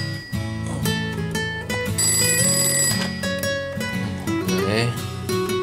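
A telephone rings in a Taiwanese drama scene, a bright repeating ring mixed with background music tones.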